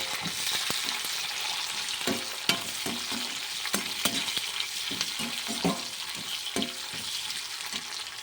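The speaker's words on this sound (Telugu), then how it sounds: "ఇప్పుడు టమాటో, ఆనియన్ పీసెస్ వేసుకుని ఫ్రై చేసుకోవాలి" Tomato and onion pieces fry in a pan for kalyani chutney, a steady dense sizzle running throughout with scattered clicks of stirring, close and alone without voices.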